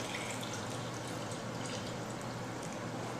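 Water is poured onto lime putty to mix a limewash, making a steady, even splashing rush that lasts the whole time without a break.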